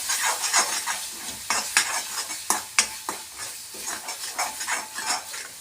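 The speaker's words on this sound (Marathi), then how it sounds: "थोडं पाणी टाकून परत परतवून घेऊ." Masala sautéed and stirred in a pan with a little water added for a paneer masala: steady close sizzling and hissing with repeated scraping stirs and sharp clinks, no talking.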